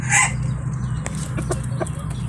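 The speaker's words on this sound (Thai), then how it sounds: "ไก่ตัวนี้เป็นไก่หนุ่มนะครับ" A young Thai rooster with white earlobes gives a short burst of clucking, loud and close, followed by a few softer clucks under a low steady background hum.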